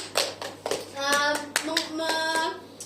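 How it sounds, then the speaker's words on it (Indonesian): Classroom applause comes as a scattered run of hand claps, uneven and close, while voices talk over the clapping. "Berikan tepuk tangan."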